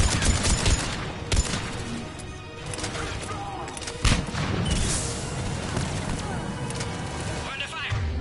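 Heavy gunfire and explosions from a firefight in the video game Mass Effect 3, dense and continuous with sharp bursts and booms over about eight seconds, layered with shouting voices and game action.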